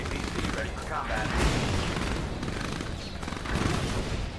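Battlefield gunfire and explosions from a Command and Conquer 3 real-time strategy fight at the White House rumble steadily, with dense crackling shots and booms under clipped unit voice lines.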